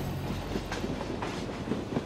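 A train rolls along the tracks through Montana countryside, a steady loud rumble of railcars with faint rhythmic clicking from the wheels and no voices.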